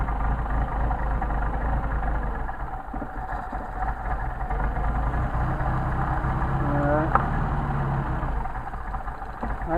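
A Mercedes 190SL with Solex carburetors, one barrel of the number 2 carburetor misbehaving, idles with a continuous, close, rumbling drone throughout, with a brief metallic clink near the end.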